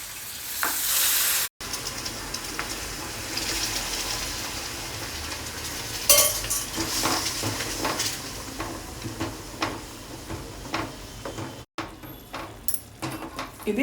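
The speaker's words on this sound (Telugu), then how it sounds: "ఇది కలుపుతూ ఉందాము." Ragi kesari with melted jaggery sizzles and bubbles in a pan as a spoon stirs and scrapes it repeatedly, a steady close frying hiss broken by clattering strokes and brief knocks.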